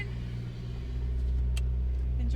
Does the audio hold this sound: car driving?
yes